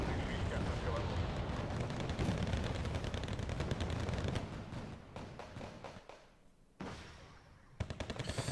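Dense, continuous rattle of artillery and gunfire in the wargame Wargame Red Dragon, loud at first, then thinning out with a few scattered later impacts, with a voice talking over it.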